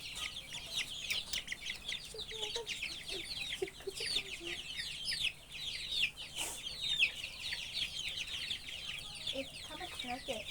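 Young layer hens in a poultry shed cluck and chatter restlessly while waiting for feed, many overlapping birds at once, with low voices faintly in the background.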